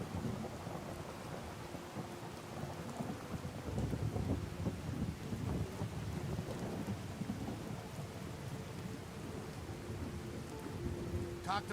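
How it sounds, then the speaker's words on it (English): A steady, heavy downpour hisses throughout, with low thunder rumbling underneath and no voices, in the video game Fallout 4. "It is raining so much."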